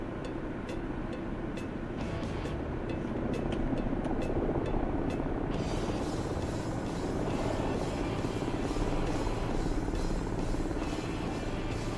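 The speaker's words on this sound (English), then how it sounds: "I hear a helicopter." A helicopter in a video game whirs as a steady, moderately loud rotor drone that continues without a break for the whole stretch, with no talking over it.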